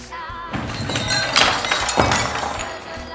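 Swarovski crystal glass shatters into pieces at a decoration and design shop's birthday event: a bright crash with scattered tinkling fragments over about three seconds, a second burst of breaking around the two-second mark, close and fairly loud, with no talking.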